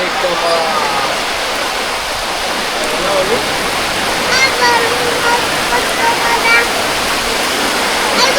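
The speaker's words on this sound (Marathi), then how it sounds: "पाऊस आलेला बघा फास्ट एकदम" Heavy rain pours down steadily outdoors at a family home, a dense continuous wash of water that stays loud throughout with no pauses.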